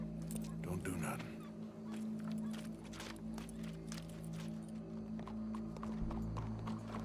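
Horse hooves clip-clopping in Red Dead Redemption 2, a steady run of soft hoof beats under a constant low rumble of game ambience, with people talking over much of it.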